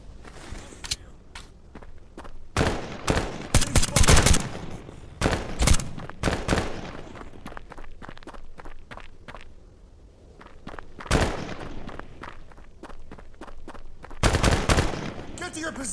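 An UZI submachine gun fires in short, loud bursts within the Tactical Assault VR game, with a quieter stretch midway before more rapid bursts. Footstep-like shuffling and faint background voices sit between the volleys.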